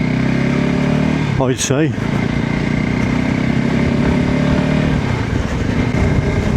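A VOGE 300 Rally motorcycle engine hums steadily while riding in sixth gear on a short-geared bike, a close, continuous buzzing drone with a brief rising-falling sweep early on and someone talking over it.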